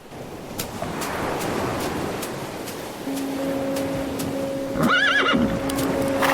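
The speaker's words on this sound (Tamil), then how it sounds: "நீங்க சூப்பரா குதிரை ஓட்டுறீங்க." A horse being ridden whinnies loudly near the end, over steady clip-clop hooves and a wind- or surf-like background, with no talking.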